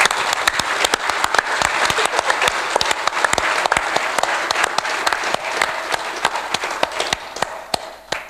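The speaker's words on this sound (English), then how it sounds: "One more round of applause, please, for those folks." Sustained applause from a summit audience, dense and steady clapping from many hands indoors that tapers off toward the end, with no talking over it.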